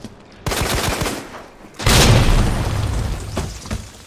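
Gunfire in Resident Evil 2, with two loud, abrupt blasts, each followed by a rumbling tail, standing alone without talk.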